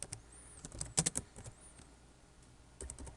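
Typing on a computer keyboard in short bursts, quick clustered key clicks with a pause before a final few presses, close and fairly quiet.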